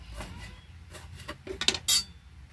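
A knife strikes a cutting board in short clicks and taps while food is cut into small pieces in a home kitchen, with a few sharper clinks toward the end. The sounds are close and quiet, with no talking.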